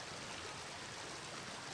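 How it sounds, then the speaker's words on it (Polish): The fast, swirling current of the Oder river rushes beneath a footbridge, making a loud, steady broadband wash of churning water that continues unbroken with no voices. "Tutaj prąd Odry jest szaleńczy, woda wiruje i pędzi."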